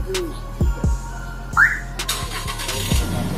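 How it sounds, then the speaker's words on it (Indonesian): Remote start of a Toyota Innova Reborn type G fitted with an aftermarket engine start/stop system: a few short clicks and a brief chirp, then the engine cranks and catches into a low, steady idle, heard from a few meters away. "Untuk starter juga bisa via remote seperti ini."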